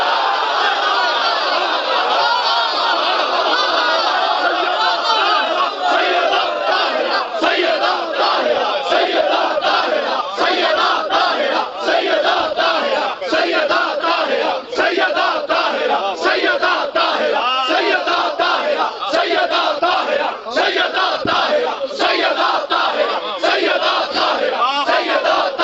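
A crowd at a religious majlis chanting slogans together, loud, dense rhythmic massed voices that carry on continuously throughout.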